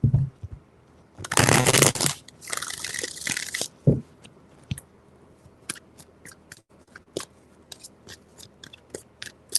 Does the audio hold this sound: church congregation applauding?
no